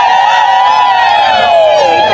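A crowd at a community cleanliness gathering ululates loudly, a sustained high trilling chorus that wavers in pitch close by.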